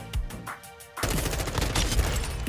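M4 rifle fire in Call of Duty MWII crackles in rapid, close bursts, a few isolated shots followed by a dense, sustained volley with no talk.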